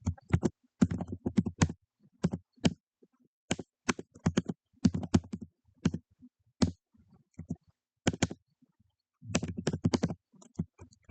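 Fingers type C++ code on a computer keyboard in quick bursts of clattering keystrokes separated by short pauses, close and clear with no talking.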